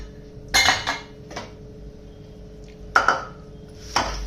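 A metal pressure cooker picked up and handled in a home kitchen, with a few loud metallic clanks and clinks spaced over a low steady hum.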